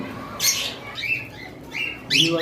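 Albino cockatiels or lovebirds at a bird farm give several sharp squawks and chirps, close by, in short bursts over a low background hum.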